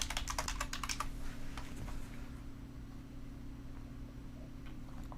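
Rapid clicking keystrokes on a computer keyboard, quick bursts of taps at first that thin out to sparse presses, quiet and close over a low steady room hum.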